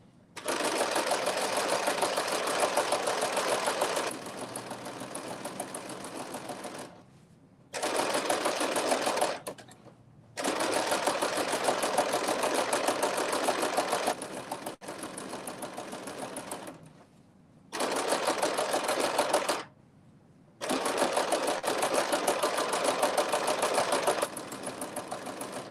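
A sewing machine stitches ruching on a Simplicity pattern dress, running in long steady bursts of rapid mechanical whirring, separated by short pauses where it stops and restarts, close by and alone.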